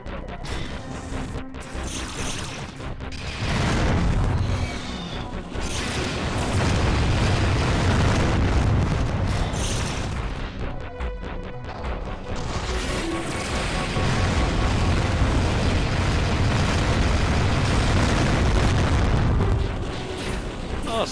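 Guided missile blasts in the game Descent II, a dense barrage of loud booming explosions and crashes layered over continuous rumbling game noise for the whole stretch.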